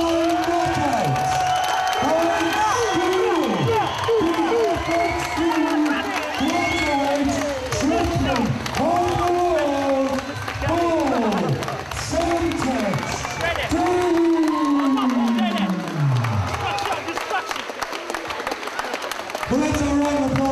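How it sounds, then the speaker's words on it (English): Arena crowd at a Cage Rage FX3 welterweight title fight cheers, whoops and applauds in a loud continuous roar after a knockout win, with an announcer's amplified voice talking over it throughout. "let's have a round of applause for a fantastic challenger"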